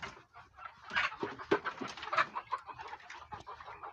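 Egg-laying hens cluck and chatter on a small home poultry farm, a fairly faint mix of overlapping bird calls with no one talking.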